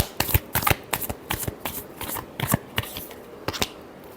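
Tarot cards shuffled by hand in quick, crisp riffles and slaps, close and clear, arriving in an uneven rhythm of bursts with no talking.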